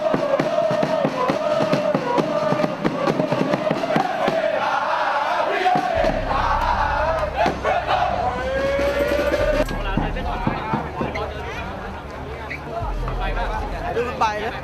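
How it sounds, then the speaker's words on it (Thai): Muangthong United ultras fans chant together in front of the stadium, a dense rhythmic roar of many voices with booming drums and bursts of crowd noise, plus a loud low rumble in the second half. "อุลตร้าเมืองทองก็จะมีการบูมกันที่หน้าสนาม"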